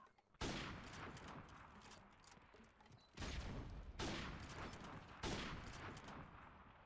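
Gunfire in Call of Duty 4 Remastered during a quick-scoping 1v1 match: several separate loud, sharp shots, each a sudden burst with a long decaying tail, spaced a second or more apart with no talking.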